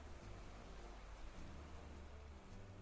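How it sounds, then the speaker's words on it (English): Steady rain falls on the ocean at a beach at night, a soft continuous hiss with low surf rumble underneath, even and unbroken throughout with no voices. "I do like the sound of the rain on the ocean"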